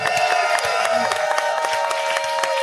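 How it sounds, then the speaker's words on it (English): A large live-show audience breaks into loud, sustained applause mixed with cheering and shouts, a dense and continuous roar close by. "have everybody give a gigantic round of applause for the man who has put this all together"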